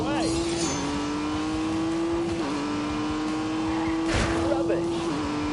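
A Honda NSX races in a video game, its engine note holding a steady loud drone with brief dips at gear shifts, tyres and other game sounds layered over it throughout.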